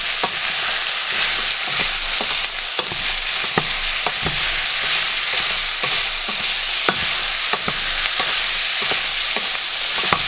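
Beans, peas, pumpkin and browned meat sizzle in a pan as they are stirred, with a constant fry under repeated sharp clicks and taps of the spoon against the pan at an uneven rhythm, and no voices.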